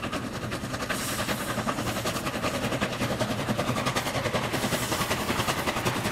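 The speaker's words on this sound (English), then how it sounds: "these huge engines are seen double-heading their heavy trains up the steep grades" Two Chinese QJ-class steam locomotives double-heading a heavy train up a steep grade on the Ji-Tong Railway, giving a loud, continuous roar with rapid rhythmic exhaust beats throughout.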